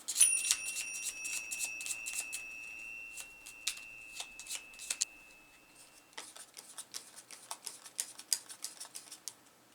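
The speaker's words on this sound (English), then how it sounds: "grab the remainder item cards, shuffle them up real good" Riffling and shuffling a deck of item cards from a solo horror board game, a steady run of crisp, close paper flutters and snaps with a brief pause midway before the shuffling resumes.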